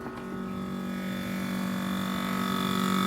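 A refrigerator gives off a steady, droning electrical hum with a buzzy tonal edge, close and continuous, growing slightly louder over a few seconds with no talking.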